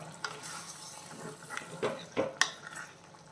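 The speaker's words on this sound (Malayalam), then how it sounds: "തുറന്ന് നോക്കി നമ്മളൊന്ന് ഇളക്കി കൊടുക്കണം കേട്ടോ." A spoon stirs crab roast cooked with little water in a pan, giving soft scrapes and a few sharp metallic clinks over a faint sizzle.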